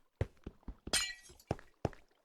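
A glass block breaks in the Minecraft video game as one brief shattering crash, set among several short thuds and clicks from nearby block actions.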